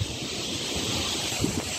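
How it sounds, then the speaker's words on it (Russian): Sea waves surge and break against coastal rocks on the Turkish shore, a steady broadband roar of surf mixed with gusting wind buffeting the microphone, continuous and close with a brief splash near the end. "ветер, бьются волны о скалы"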